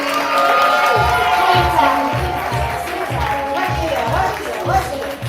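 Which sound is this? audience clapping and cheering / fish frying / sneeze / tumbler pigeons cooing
audience clapping and cheering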